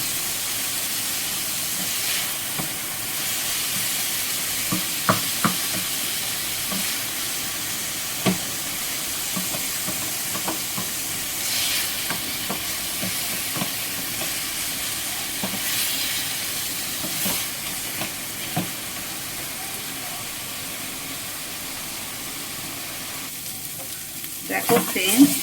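Chicken sautés with chicken masala in a pan, a steady sizzle and hiss running throughout, with intermittent scrapes and clinks of stirring and a louder clatter near the end.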